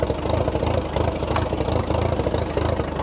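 A 1943 Case SC tractor engine idles while warming up before pulling a load uphill, a steady, loud, low chugging with an even pulsing rhythm that runs throughout, close by.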